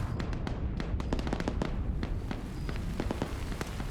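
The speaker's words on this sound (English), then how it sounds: "So Nemesis, he's hearing those gunshots." Rapid bursts of sharp cracking video game gunshots, some clustered and some spaced apart, over a steady low rumble, without any talking.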